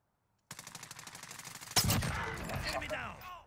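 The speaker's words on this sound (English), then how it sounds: "they're shooting over here somewhere" Gunfire in the battle royale game Warzone: a quick run of rapid shots breaks the silence, then one heavy blast rings out and decays into echoing noise.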